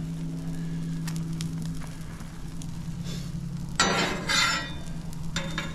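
A three-egg omelet sizzles steadily in a frying pan, with a soft clink and scrape of a spatula as it is flipped partway through, followed by renewed frying crackle.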